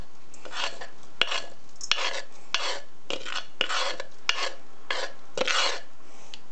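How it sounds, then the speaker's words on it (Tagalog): Garlic and crushed whole peppercorns stirred in a pan for Filipino adobo, heard as a steady rhythmic scraping and rubbing of a utensil against the cookware, with light clinks, close by and without talk. "i-mix natin siya para maghalo yung bawang at yung pamintang buo"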